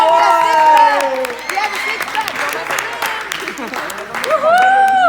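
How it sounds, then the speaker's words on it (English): Audience applause for a volunteer at a Passover gathering, a burst of clapping that fades to scattered claps under excited talking and a voice cheering. "Round of applause for Luis."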